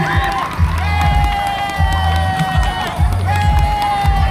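A crowd cheers and shouts at a subdistrict sports games awards ceremony in Ko Khan, Cha-uat, Nakhon Si Thammarat, with bursts of rising and falling noise. Tonal sounds run through the cheering, and voices mingle throughout.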